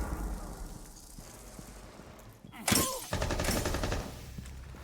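Gunfire in an online shooter video game, a sudden loud burst of rapid shots with a sharp crack and clattering tail midway, preceded by quieter game ambience.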